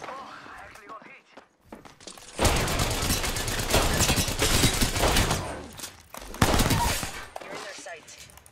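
Sustained rapid gunfire from an Apex Legends firefight, dense bursts of shots with a few short gaps, loud and close, with speech-like sounds mixed in.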